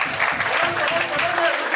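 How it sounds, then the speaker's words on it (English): A crowd at a spoken English class team introduction claps steadily for the managing director, a dense continuous applause with voices mixed in. "None other than Somesh sir. Clap for him."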